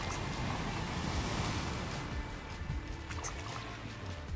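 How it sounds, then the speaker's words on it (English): Ocean surf splashing in an Unreal Engine 5 island scene, a loud, continuous wash of waves and water churn with a wind-like roar, close and unbroken throughout. "We got splashing, interaction with the water."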